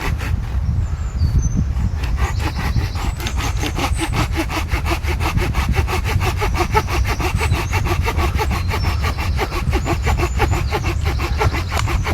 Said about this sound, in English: that's where you're going to saw it